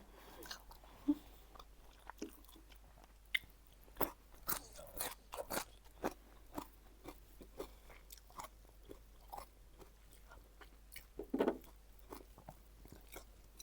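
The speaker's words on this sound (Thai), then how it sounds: "กัดพริกหยอกกระเพาะนิดหน่อย" Close, quiet crunching and biting of chili while eating chicken offal cooked with yellow mushrooms and earth mushrooms, with irregular chewing crunches and soft mouth sounds scattered throughout and no talking.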